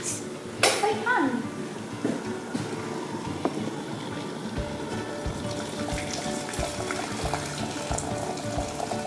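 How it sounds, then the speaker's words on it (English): Boiling water is poured into a glass bowl, giving a steady splashing pour with light clinks of glass, heard under a voice talking. "So we're now pouring the boiling water into the glass bowl."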